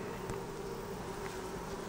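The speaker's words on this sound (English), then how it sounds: "Lots of bees on here and it's an empty frame." A steady, close buzzing drone of many honey bees on an empty hive frame, continuous and even throughout.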